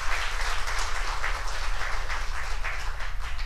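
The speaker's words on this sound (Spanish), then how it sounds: "Un fuerte aplauso, Señor, hermano." A church congregation claps and cheers during a Christian service, a dense, continuous wash of applause with a steady rhythm, fairly loud and close, lasting a few seconds.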